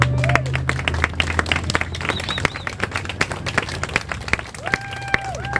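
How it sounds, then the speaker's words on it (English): Scattered clapping from a small crowd of protest marchers outdoors, irregular claps over steady background noise and passing tonal sounds, with some talk mixed in. "let's give them a round of applause"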